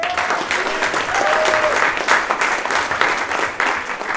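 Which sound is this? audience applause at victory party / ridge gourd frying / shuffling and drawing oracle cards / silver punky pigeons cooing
audience applause at victory party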